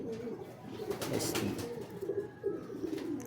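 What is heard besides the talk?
racing pigeon cooing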